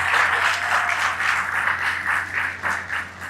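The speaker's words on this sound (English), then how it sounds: "Let's give a round of applause." Audience applause at an Eritrean community festival in Dallas, Texas: steady, dense clapping from a sizable crowd, loud and continuous for several seconds with slight swells, no talking over it.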